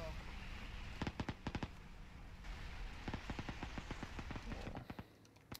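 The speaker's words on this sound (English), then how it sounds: "Shooting in this compound." Bursts of gunfire in Arma 3, a WWII-era 1944 King of the Hill match: clustered sharp shots and rapid volleys, some loud and close, others more distant, over a steady game ambience with voices talking.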